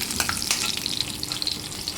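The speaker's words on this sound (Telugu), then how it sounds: "ఇది మినపప్పు ఉంది కదండి అది గోల్డెన్ బ్రౌన్ వచ్చినంత వరకు వేగాలి" Urad dal frying in oil in a small tempering pan, a steady close crackling sizzle with bright spattering pops throughout, no talk.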